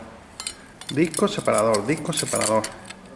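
Metal clutch plates and separator discs from a 1978 Suzuki GS 750 clink and jangle together as they are handled, a run of close, bright metallic chinks with a voice speaking over part of it.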